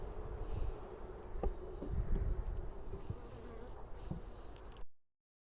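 Steady buzzing of many honey bees up close at an open hive, a dense continuous drone with a few soft knocks and bumps underneath, ending abruptly.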